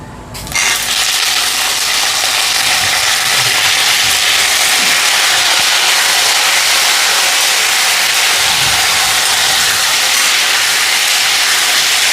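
Brinjal pieces are dropped into a hot tempering of oil, and a loud, continuous hiss and crackle erupts at once and holds steady for several seconds with no voices.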